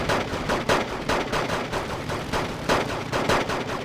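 Rapid gunfire from PPSh-41 submachine guns in the battle game Wargame Red Dragon, dense overlapping bursts of automatic shots rattling continuously at moderate volume, with heavier thumps now and then and no talk.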